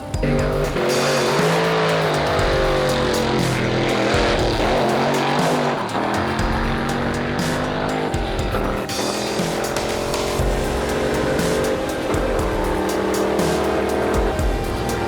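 A 1932 Ford drag racing at Carlsbad Raceway, engine roaring loud and continuous with shifting revs, tire squeal and other cars mixed in across the strip.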